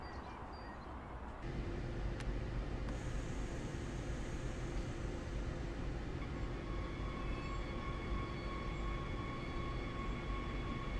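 Simulated Leipzig S-Bahn train in Train Sim World, departing Rackwitz station: a steady, dense rumble and hiss of a moving electric train with faint tonal whines, continuous throughout with a small shift early on.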